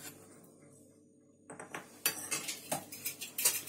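Gram flour batter with green chillies and salt is mixed in a bowl: quiet at first, then a spoon begins clinking and scraping against the bowl in quick, close, rhythmic strokes.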